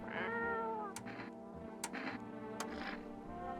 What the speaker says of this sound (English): Reach out and pet the cat.